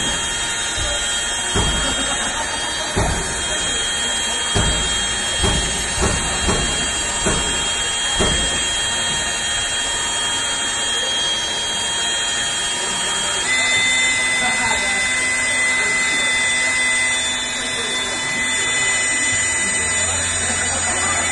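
A cordless pipe threader cuts thread on a pipe with lubricated dies, opening with a run of clanking knocks before settling into a loud, continuous motor drone with a faint high whine.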